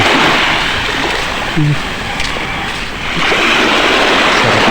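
Sea waves wash onto a sandy beach, a loud, continuous roar of surf up close with a brief dip in the middle before it swells again, heard while walking along the shore.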